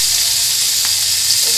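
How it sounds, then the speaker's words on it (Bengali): Pointed gourd (potol) frying in a pan, a steady close sizzle and hiss running evenly throughout with no talk. "এখানে হচ্ছে পটল ভাজছি"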